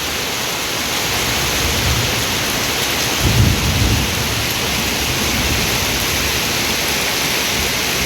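Heavy rain pours steadily over farmland in a dense hiss, with a low rumble of thunder rolling in briefly partway through.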